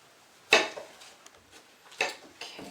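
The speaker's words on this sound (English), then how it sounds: "So let's get cutting up the tomato, the green pepper, and our onion" A knife chopping tomato, green pepper and onion on a board in a kitchen, with a few sharp, separate knocks and softer cuts in between, close and sparse.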